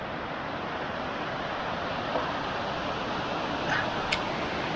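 Steady, broadband rushing water roars continuously, the loud wash of Sirah Kencong waterfall near Blitar, masking everything, with a couple of faint brief clicks near the end.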